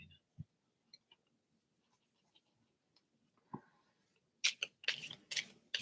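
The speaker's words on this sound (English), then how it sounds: "Let me give these a good shuffle and bring the cobwebs off of them." Tarot cards handled and shuffled close by, with quiet scattered ticks and rustles that lead into a few quick, crisp riffling bursts near the end.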